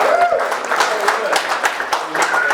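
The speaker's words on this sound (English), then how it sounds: "We're celebrating the opening of the Maharaja Duleep Singh Durbar room upstairs at the hotel, and that needs a huge round of applause." Guests at a hotel celebrating the opening of the Maharaja Duleep Singh Durbar room in Thetford give a loud round of applause, with voices talking over the close clapping.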